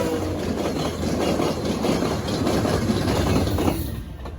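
A model train rumbles steadily along the track with a continuous rolling, rattling clatter and faint clicks, fairly close, with no voices.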